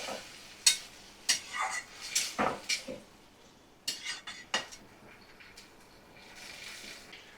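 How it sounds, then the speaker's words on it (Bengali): Metal spoon scraping and clinking against a pan as a spice paste is stirred and sautéed, a run of sharp irregular clatters for about five seconds, then a soft low sizzle. Close and moderately loud, with no voices. "ভালো করে 2 মিনিট কষিয়ে নিচ্ছি"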